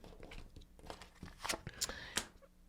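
A tarot card deck being shuffled by hand, quick papery riffles and soft slaps close up, in short uneven bursts.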